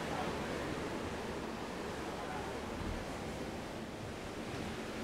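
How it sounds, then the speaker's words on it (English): Water washing steadily along the twin hulls of a Sunreef 80 Eco solar-powered catamaran under way on a sea trial, a continuous close broadband swash with wind noise and no clear pauses. "you can hear the water lapping against the hulls"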